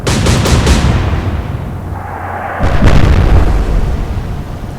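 A naval gun fires armor-piercing shells in the Atlantic Fleet naval war game: a few heavy booms at the start, then a deep rumbling swell, with another loud blast near the three-second mark.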